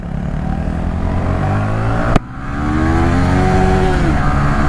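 A Yamaha R15 V3 motorcycle accelerates loudly and close by, its engine note climbing through the gears with a sharp shift break midway before rising again.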